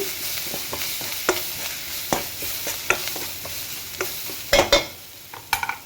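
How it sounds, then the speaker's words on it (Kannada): Wedding-style rasam with asafoetida and coriander leaves stirred in a pot: a series of short scraping strokes at a loose rhythm over a faint simmer, with a louder clattering burst near the end and no talking. "ಒಂದು ಸ್ವಲ್ಪ ಕೊತ್ತಂಬರಿ ಸೊಪ್ಪು ಹಾಕಿ ಮಿಕ್ಸ್ ಮಾಡೋಣ"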